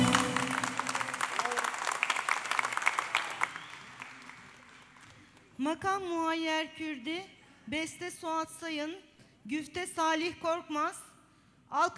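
Audience at a choir concert applauds with dense clapping for a few seconds before it fades, followed by a voice singing or speaking over the quieter hall.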